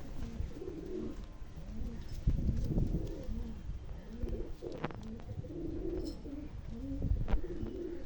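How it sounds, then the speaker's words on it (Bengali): Kept hobby pigeons, including a female, coo over and over in soft, throaty low rolls, close by, with occasional clatter and handling bumps. "এটা মাদি পায়রা রয়েছে, আপনারা এই পায়রাটা শখ করুন"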